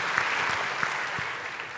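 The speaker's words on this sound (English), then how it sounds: "Everybody, give a cheer." Audience at a community tech conference applauds steadily and cheers, a dense wash of clapping with a few louder shouts rising out of it, fairly close and continuous throughout.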